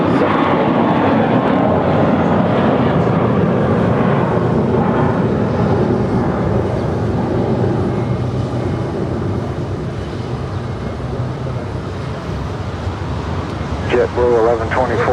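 An airliner taking off at Los Angeles International Airport, a loud steady engine roar filling the whole clip, with radio chatter from air traffic control faintly over it near the end.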